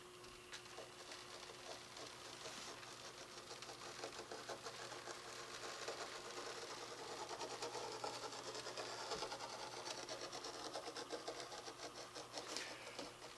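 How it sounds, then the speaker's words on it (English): The small electric motor of a Mesmergraph drawing machine runs quietly, a faint whirring and ticking from its gears and linkages as a magnet drags a ball bearing around, steady and close with no speech. "when I turn on the motor, the magnet will drag the ball bearing around in a design determined by the gears and linkages set up in the machine"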